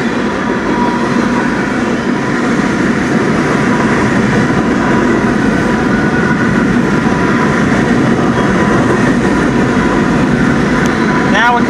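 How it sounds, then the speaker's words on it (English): BNSF manifest freight train rolling past the Chimney Rock Road railroad crossing on the UP Glidden Sub, a loud, continuous rumble and wheel roar sustained throughout, with no break in the noise. "Same BNSF train we had called earlier."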